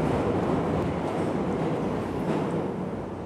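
A London Underground train rumbles loudly and steadily close by, a dense roar of wheels and motor with no voices heard.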